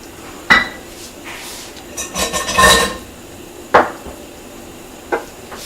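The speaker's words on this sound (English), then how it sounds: "giving it a stir" A spoon clinks and scrapes against a cooking pot during shrimp malai curry preparation, giving a few sharp metallic knocks and a short busy stretch of stirring with no talk.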